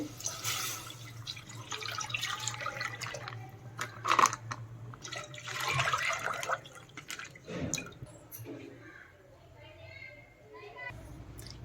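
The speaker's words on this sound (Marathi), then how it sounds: "एक लिटर दूध टाकणार आहे" One litre of full-cream milk pours and splashes into a pot for several seconds, close and fairly loud, with a steady low hum and faint voices nearby.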